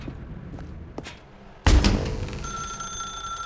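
A telephone rings in The Stanley Parable video game, with soft thumps before a sudden loud onset, then a steady ringing tone that holds on clearly to the end.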